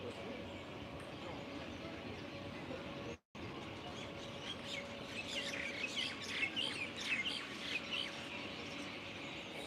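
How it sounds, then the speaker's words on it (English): A large colony of birds chirps in central Tashkent: a dense chorus of high twittering calls, busiest in the second half, over steady city rumble and low background hum. "There's a huge colony of birds here."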